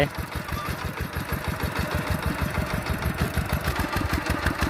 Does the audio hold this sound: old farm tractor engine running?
yes